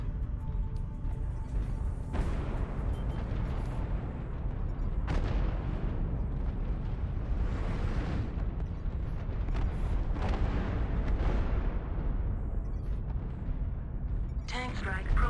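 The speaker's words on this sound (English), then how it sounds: "Tank strike protocol active. Tank strike initiated. Target engaged." Repeated booming blasts from a tank strike in a combat video game, heavy explosions rolling over one another continuously through the clip with a dense, loud low-end rumble and a brief sharp burst near the end.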